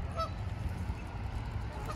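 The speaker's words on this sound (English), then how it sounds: "look at those Canada geese" Canada geese honk from a distance along a trail, a few short calls standing out above a steady low rumble of wind and traffic.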